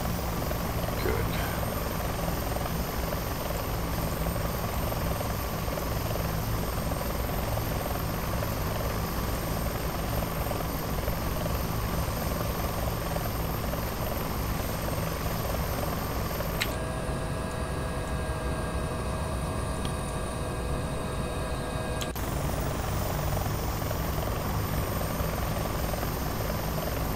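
A Bell 412 helicopter in flight in the X-Plane 11 simulator gives a loud, constant rotor and turbine drone with steady whine, unbroken for the whole stretch, with a brief shift in tone partway through.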